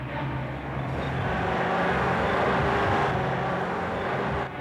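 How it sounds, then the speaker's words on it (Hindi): A car engine drones steadily, swelling slightly as it draws nearer, with no talking. "सर, किसी गाड़ी की आवाज आ रही है।"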